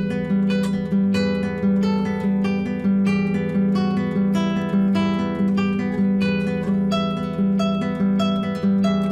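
The famous classical piece Romanza plays as a steady, rhythmic plucked accompaniment: repeated arpeggiated notes with a sustained melody line, close and clear, with no voices.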